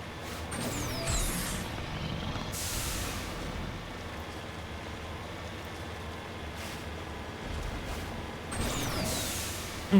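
Vehicle driving in the Mass Effect Legendary Edition video game, a steady engine and rolling rumble throughout, with brief hissing bursts near the start and end and a loud spike at the close; no talking.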